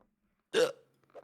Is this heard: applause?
no